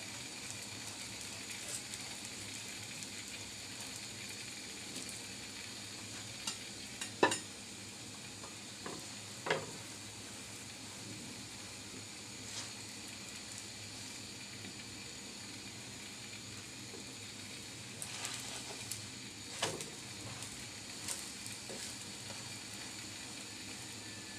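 Egg paratha frying in a pan, a steady soft sizzle running throughout with a few sharp clicks and scrapes of a utensil against the pan.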